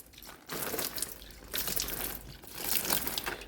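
Cold water is poured onto potted plants in a steady close splashing and trickling stream, rising and falling in intensity over a few seconds.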